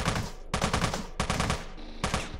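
In the game Teleglitch, an SMG fires in three or four rapid bursts of close, crackling shots, each lasting about half a second with brief gaps between them.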